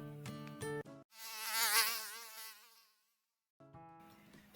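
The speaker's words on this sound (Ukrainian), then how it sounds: "Та це ж комар так пищить." A mosquito's thin, wavering whine rises and fades over about two seconds, close and fairly loud, between stretches of other tonal sound and brief silence.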